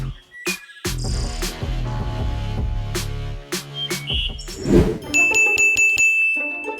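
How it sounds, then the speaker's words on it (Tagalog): A bell rings in an animated cartoon scene, giving a bright, high tinkling chime near the end that follows several short knocks and clicks. "Itong bell, ginagamit kapag wala ako dito, okay?"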